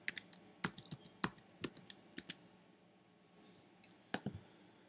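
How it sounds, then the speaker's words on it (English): Keys clatter on a computer keyboard as a product number is typed in, with quick clusters of sharp clicks, a pause, then a few more taps, all close and quiet. "We're going to type in the product number."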